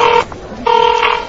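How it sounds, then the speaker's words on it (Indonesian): Two dual-tone telephone keypad beeps sound close and loud, each lasting a fraction of a second with a short gap between, with no voices. "Ayo, telepon bos dulu deh."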